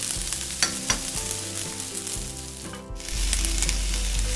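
Chopped onions sizzle and fry steadily in a hot pan for tomato-onion chutney, a close, constant crackle with occasional stirring clatter and no speech.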